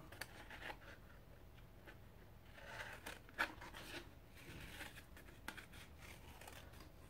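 Scissors cut a circle from colored paper for a paper mandala, making faint, close snips and soft rubbing crinkles in an uneven rhythm at low volume.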